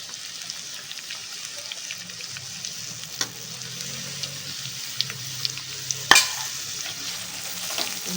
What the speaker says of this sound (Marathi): आता हा बारीक चिरलेला कांदा टाकत आहे।